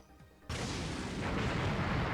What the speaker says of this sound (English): The aggressive roar of cannon fire made the roof shake, and soon cannons were blasting through our walls.